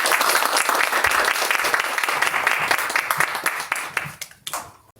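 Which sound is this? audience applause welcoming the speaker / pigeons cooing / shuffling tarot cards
audience applause welcoming the speaker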